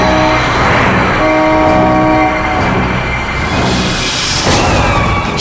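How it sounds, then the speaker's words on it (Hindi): A loud horn blares through dense traffic-like noise, with sustained tonal honks layered over a rumbling background and no one speaking. "हॉर्न पे हॉर्न मार रहा है।"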